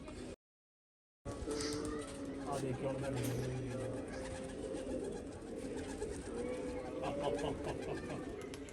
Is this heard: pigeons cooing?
yes